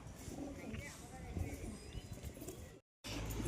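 Pigeons coo softly at a pigeon sale, low throaty calls under a voice, with faint shuffling and a brief cut to silence near the end.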